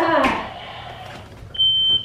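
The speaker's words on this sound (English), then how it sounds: "That explosion was so massive it set off all our smoke alarms." A smoke alarm set off by a massive explosion sounds a piercing, steady high beep near the end, following a loud burst of noise that fades away.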